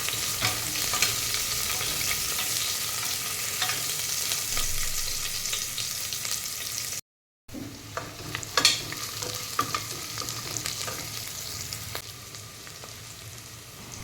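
Sliced onion sautés in a pan for chicken stew, a steady close sizzle with frequent stirring scrapes, briefly cut off midway before the frying resumes.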